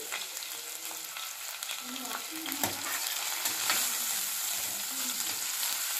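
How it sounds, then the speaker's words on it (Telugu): Broad beans and green chillies frying in a pan give a steady, close crackling sizzle that runs throughout, with occasional stirring scrapes and no talking. "నేను చిక్కుడుకాయ పచ్చిమిర్చి వేసి చేస్తున్నాను."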